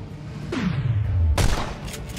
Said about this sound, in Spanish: Disparos con silenciador, no puedo estimar la posición exacta del tirador.